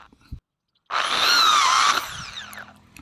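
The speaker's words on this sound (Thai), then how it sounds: "เจาะง่ายครับท่อ PVC ตามที่เราวัดระยะไว้แล้วครับ" A power drill bores holes through PVC pipe for a hydroponic salad garden, a loud whining buzz of about a second that rises as the bit cuts through, then tapers off, close up with no talk.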